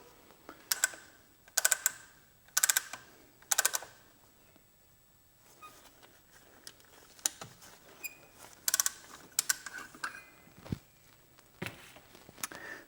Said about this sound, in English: So just like that, we just ratchet back and forth.